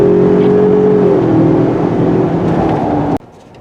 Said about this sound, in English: Let's do a 0 to 60 run. Takes a while for that turbo to kick in.